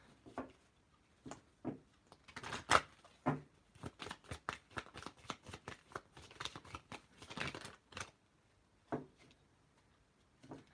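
Oracle cards being handled and shuffled make a run of quiet, irregular dry clicks and riffling flicks, close by, with short pauses between bursts and no talking.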